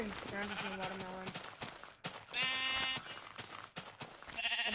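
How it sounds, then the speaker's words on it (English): Sheep bleat several times in a Minecraft farm biome, short wavering calls repeating over a busy backdrop of game sounds and background music. "But I can get some good sheep here."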